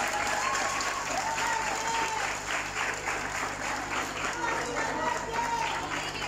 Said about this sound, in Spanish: Muy fuerte el aplauso para Pablo y Maite